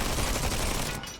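Rapid automatic gunfire from units in the turn-based 4X strategy game ZEPHON, a dense, loud burst of overlapping shots that fades slightly at the end, with no talking.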